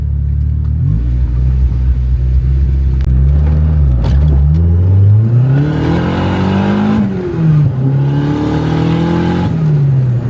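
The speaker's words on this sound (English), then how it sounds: "So now we're just gonna do a quick drive, see how the car is operating overall." A loud Nissan Skyline R34 engine revs and accelerates up through the gears, a deep rumbling exhaust rising and falling in pitch, close up and continuous.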